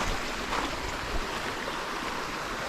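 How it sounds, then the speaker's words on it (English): Water moving outdoors beside a village, a steady broadband rush like surf or a flowing stream, with wind noise mixed in and no clear speech over it. "So look at the water."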